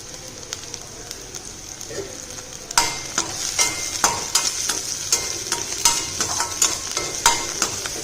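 Onions sautéing with a little salt in a steel kadai, a steady frying sizzle with repeated spatula stirs and scrapes that grow louder and more regular after the first few seconds, close up with no talk.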